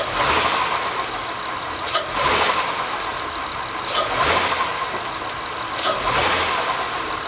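A 2005 Honda Accord V6 in drive with the brake held, idling, then swelling in three or four short throttle bursts about two seconds apart; the front center engine mount is broken.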